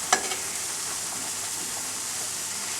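Fresh tuna steak sizzling in a dry pan, a steady bright hiss with a brief clatter as it is turned over, close and continuous with no talking.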